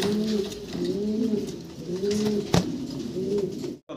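Fancy pigeons kept for sale coo nearby in repeated soft, low, warbling phrases, one after another, with a sharp knock near the end.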